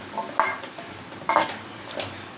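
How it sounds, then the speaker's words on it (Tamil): Potatoes with onion, garlic and curry leaves being stirred in a pan: a few quiet, separate scraping strokes of a spoon against the pan, with soft gaps between them and no talk. "அதையும் போட்டு இந்த வெங்காயத்து பூண்டு கருவேப்பிலை இதெல்லாம் போட்டு நல்லா மிக்ஸ் பண்ணிக்கலாம்"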